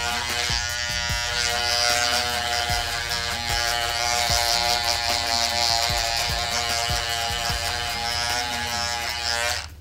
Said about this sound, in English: we're actually gonna use the balding machine and we're just gonna clean at the bottom